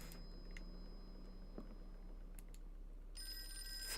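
An old-fashioned telephone rings in the Call of Cthulhu horror game, a faint bell burst near the start and a louder, brighter ring swelling in at the end over a low hum, no speech.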